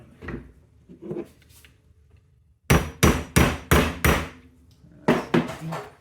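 A hammer striking a steel punch while disassembling a Portuguese M1886 Kropatschek rifle: a few faint taps and handling noises, a pause, then five sharp metallic whacks in quick, even succession, followed by two more after a short gap, loud and close.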